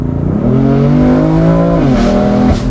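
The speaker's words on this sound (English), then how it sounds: "this is one of my favorite exhausts" Exhaust of a 2020 BMW M4 Cabriolet revving with the top down, a loud, close, raspy engine note that climbs and holds steady, then drops and rises again in short pulls.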